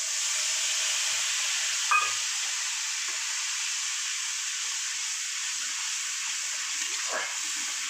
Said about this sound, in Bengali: এবার আমি মশলাটাকে ঢেলে দেবো।